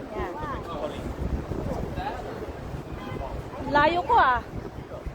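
Wind gusting past a selfie-taking group at a castle in Toledo, Spain, a steady broadband rush with buffeting on the microphone, heard under ongoing conversation close by.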